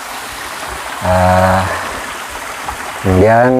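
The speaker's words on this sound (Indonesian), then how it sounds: "Bagian atas dari air terjun yang tadi." The upper part of the Curug Cihangasa waterfall in Kertamukti, Sumur, rushes with a steady broadband roar while someone speaks over it in short bursts.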